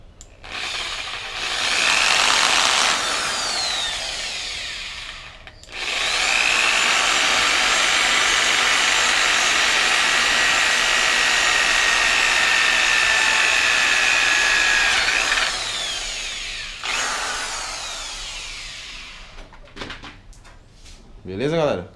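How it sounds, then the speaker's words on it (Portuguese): Power drill boring a small hole in a motorcycle clutch part, whining in two sustained bursts, the longer one holding steady, with brief handling noises between and at the end. "Aí no final aqui a gente faz um furinho com a furadeira."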